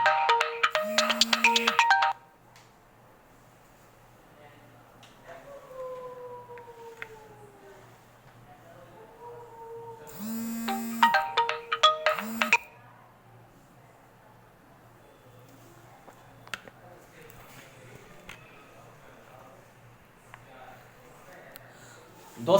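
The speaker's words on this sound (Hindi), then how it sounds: "बीच में फोन आ गया, गलती होगी मुझसे, आज फ्लाइट मोड पे नहीं लगा" A mobile phone ringtone goes off twice during a recorded lesson, loud melodic bursts of about two seconds each, with a quieter room and a voice in between.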